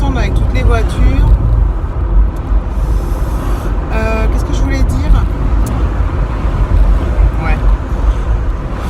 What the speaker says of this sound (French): Je sais pas si on va bien m'entendre avec toutes les voitures.